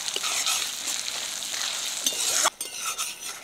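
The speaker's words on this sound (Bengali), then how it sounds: "এবার দিয়ে দেবো আদা রসুন পেস্ট। 1 মিনিট মতো নেড়ে চেড়ে নেব।" Ginger garlic paste fries with onions and tomatoes in a pan, a steady close sizzle under brisk stirring scrapes, with a sharp utensil knock midway before the frying settles again.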